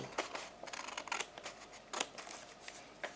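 Scissors snip through paper for a giraffe craft in a quiet room, a series of soft, crisp cuts in uneven bursts, close by and faint.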